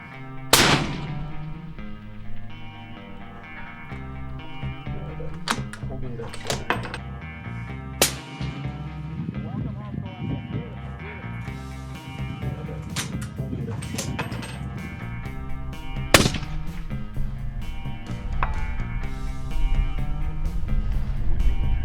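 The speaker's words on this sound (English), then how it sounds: "let's go shoot this thing" A Mossberg Patriot Predator rifle chambered in 7mm PRC fires at Rock Lake Rifle Range, with several sharp, loud shots spaced irregularly over a steady musical backing.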